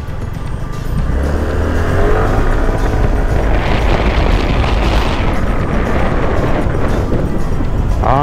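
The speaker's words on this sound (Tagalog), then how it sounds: "Feels na feels mo na nagmamaneho ka ng isang maxi scoot na 150" An MBP SC150 maxi scooter with a 150 cc engine rides past, a steady loud engine drone with wind rush that swells after a quieter start and holds strong to the end.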